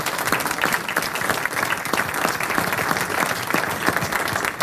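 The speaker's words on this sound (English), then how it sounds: "Round of applause to everybody." Steady crowd applause for presenters at an energy business event in Boston, many hands clapping in a dense continuous patter, moderately loud with no voices over it.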